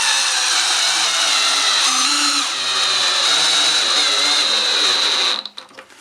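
A power drill drives a big screw into a pre-drilled wooden patio chair, a loud continuous motor whine that holds steady for about five seconds, then cuts off with a few brief stutters.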